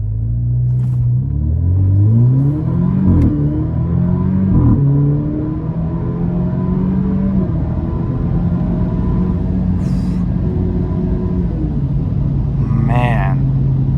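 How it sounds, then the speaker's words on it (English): An Alfa Romeo Giulia held on the brake for a brake-boosted launch gives a loud rising engine rumble that climbs through several gear changes, heard from inside the car at night with someone talking over it. "So let's actually do a little bit of a launch in the Giulia."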